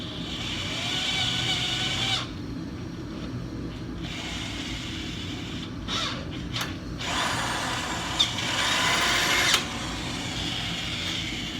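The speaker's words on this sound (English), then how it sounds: "So you're going to drill these holes out." A 3/8 bit drills holes in a brake part on an S-10 pickup, the tool whirring in several close, steady runs separated by short pauses over a constant low mechanical hum.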